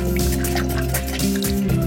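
Water drips and trickles as an aquarium filter sponge from an EHEIM Classic 250 pump is squeezed, a close, continuous wet splattering over a steady low hum.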